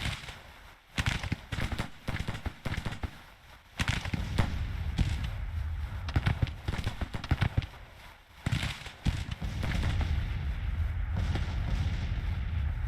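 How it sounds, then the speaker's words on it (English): Artillery guns booming in a Grand Tactician Civil War strategy game, a steady barrage of rumbling, crackling blasts that overlap into a continuous low roar with no voices. "guns are still firing away at him"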